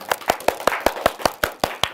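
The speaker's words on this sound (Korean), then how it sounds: "박수 부탁드립니다" Clapping from an audience at an evening science talk in Yuseong-gu, Daejeon: about ten sharp, evenly spaced claps in steady rhythm, close and fairly loud.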